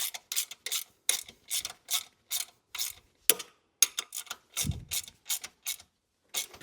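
A 12mm bolt and nut on a 50cc kids' petrol quad bike suspension arm being tightened with a ratchet, giving repeated short clicking bursts in a steady rhythm, close and fairly loud, with a brief low thump near the middle.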